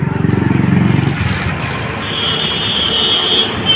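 A train passes close by along a road, opening with a loud, rhythmic low rumble of wheels over rail joints for about a second before fading into steady, broad road and traffic noise.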